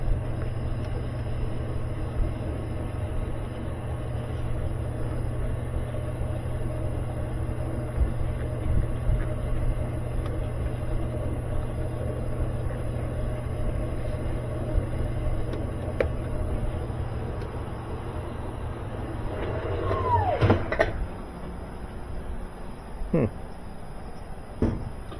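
A broken GE washer runs its spin cycle, a steady droning hum and rumble that holds evenly for some twenty seconds before a few sharp clunks and rattles near the end.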